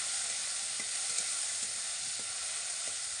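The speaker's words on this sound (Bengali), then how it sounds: "টমেটো একটু ভালো করে নাড়াচাড়া করে নিতে হবে টমেটো ভালো একটু নরম হবে" Tomatoes fry in mustard oil with a loud, continuous close hiss, broken by faint, regular soft knocks as a spoon stirs them.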